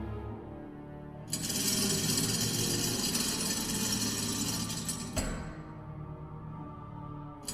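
An old crank handle turning in the video game Lost Horizon, a steady grinding, ratcheting mechanical rasp that runs for about four seconds and stops with a clunk, close and fairly loud over a quiet ambient bed.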